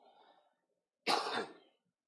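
A single harsh, loud cough bursts out after a moment of quiet breathing, then fades.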